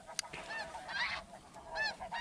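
Snow geese honking during a conservation-season hunt, a noisy flock calling in repeated high, nasal bursts that rise and fall at moderate distance over faint field ambience.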